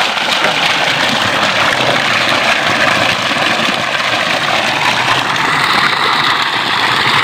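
A gasoline-powered water pump engine runs steadily at moderate throttle while filling a water storage tank at a durian orchard on rocky ground, a loud, continuous droning hum with no breaks and no voices.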